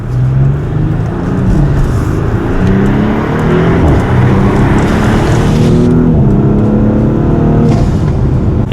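An Audi SQ5 exhaust fitted with an X-pipe rumbles steadily and loudly with a deep, smooth drone, rising and settling slightly as the engine revs, heard up close.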